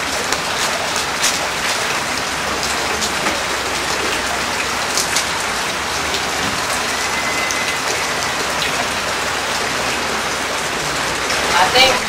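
Heavy rain pours steadily and loudly, a dense continuous hiss with scattered drops hitting surfaces throughout, filling the whole stretch.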